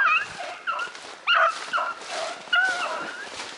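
Hunting dogs chasing a rabbit through brush give short excited yips, whimpers and barks in irregular bursts, fairly close and loud, with no talk over them.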